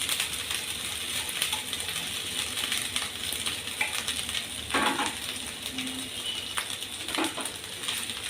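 Cooked rice and peas go into a hot pan for flaxseed rice and crackle in a soft, continuous sizzle, with a few sharper scrapes and clinks of the spoon against the pan.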